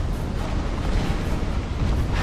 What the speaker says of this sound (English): The fake out explosion.